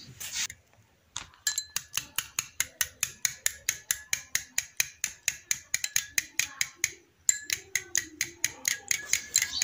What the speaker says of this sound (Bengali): এবার হ্যান্ড উইচের সাহায্যে ভালো করে ডিমটা ফেটে নেব।